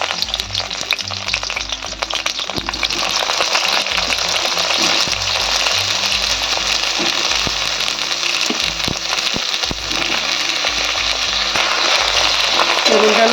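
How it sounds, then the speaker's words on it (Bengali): Eggplant pieces hitting hot mustard oil, a loud continuous close sizzle with occasional crackles. A voice speaks at points under the frying. "তেলের মধ্যে আমি বেগুনগুলো দেবো।"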